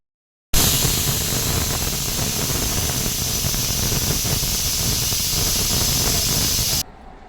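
A pressure cooker on a kitchen stove, cooking a pea and chickpea sambar, releasing steam in one loud, steady hiss that starts abruptly and runs for several seconds before cutting off, with no voices.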